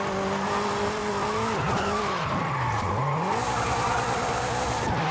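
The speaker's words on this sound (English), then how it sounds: "There's a lot of e-brake action going on right here." A car in the racing game Forza Horizon 5 skids with e-brake drifting, engine droning and tires screeching with swooping pitch changes, loud and continuous with no talk.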